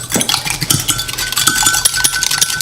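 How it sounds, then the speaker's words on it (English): A whisk beats an egg in a measuring cup, producing rapid, close, rhythmic clinking and tapping against the cup with no talking. "And I'm just going to take my whisk"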